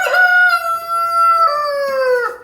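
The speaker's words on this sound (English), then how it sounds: "There's my one rooster here." A rooster crows in a barn among Brahma, Araucana and Plymouth Rock hens, one loud, close, drawn-out call that holds steady before dipping at the end.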